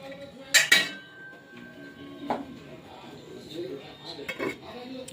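A lid is set on a cooking pot in a small home kitchen, giving a couple of sharp metallic clinks and clatters followed by softer knocks, with someone speaking quietly.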